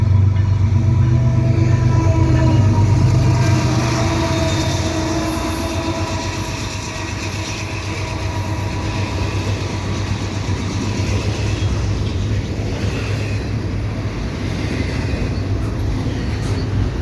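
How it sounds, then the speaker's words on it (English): A long westbound CP freight stack train rumbles steadily past nearby at Pine Beach, with a constant roar of rolling wheels and faint rhythmic clacking over the rails. No one speaks. "I've got a westbound CP train"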